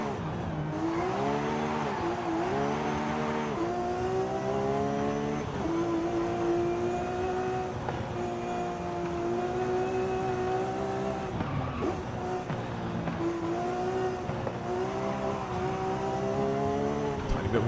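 A Porsche 911 power sliding through corners in Forza Horizon 5, the engine droning and rising in pitch as revs climb and drop, with steady tire squeal over it and a person talking throughout.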